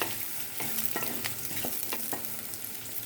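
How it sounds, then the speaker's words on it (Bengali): Onion and chana dal sizzle steadily in a hot pan with panch phoron, the constant hiss broken by a few sharp scraping stirs, close and moderately quiet with no talking. "পেঁয়াজ, একটা পেঁয়াজ, 5 ফোড়ন, পেঁয়াজ আর একটু ছোলার ডাল একসাথে ভাজা ভাজা করবো।"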